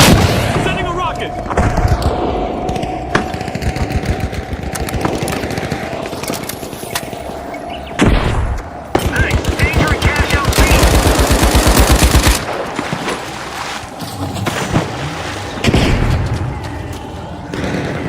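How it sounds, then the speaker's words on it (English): A rocket launches amid a firefight in the video game The Finals: dense, loud bursts of rapid gunfire mixed with heavy booms and explosive thuds, one long sustained blast near the middle. "Sending a rocket!"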